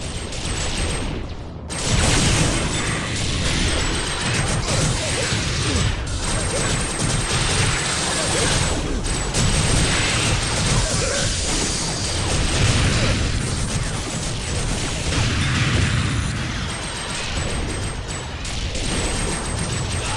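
Gunfire in the video game TimeSplitters Future Perfect, a dense, continuous barrage of shots and crashing impacts running throughout at high volume, with no pauses.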